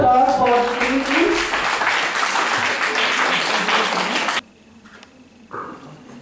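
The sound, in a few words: applause for JVWU at moot court competition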